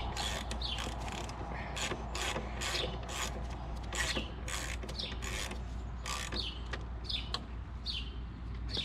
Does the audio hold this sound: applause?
no